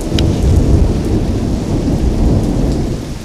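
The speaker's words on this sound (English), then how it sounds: "Big thunder, more lightning." Loud rolling thunder rumbles over heavy, steady rain during a big storm in Wyoming, a continuous deep roar with no voices.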